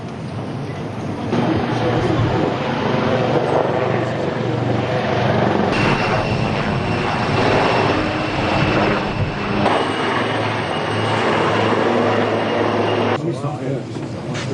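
Military combat and rescue helicopters thrum steadily and loudly throughout, a continuous rotor and engine roar that fills the whole stretch with no break.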